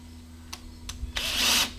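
A power drill drives a fastener while an outdoor kitchen is being built, with two short clicks followed by a brief, loud whirring burst that stops abruptly.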